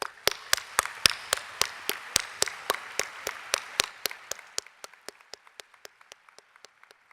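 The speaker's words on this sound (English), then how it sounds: "I'd like to take a moment to recognize all of the musicians here today. They've worked so hard for this performance, and they deserve a round of applause." An audience at a 2018 high school graduation claps for the musicians, a steady, evenly spaced run of sharp claps in unison, about four per second, that gradually fade and thin out.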